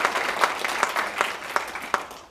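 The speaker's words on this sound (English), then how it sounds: "It's worth clapping about." A crowd applauds at a township's annual state-of-the-township address, a dense steady wash of clapping with a few sharper individual claps, fading away at the end.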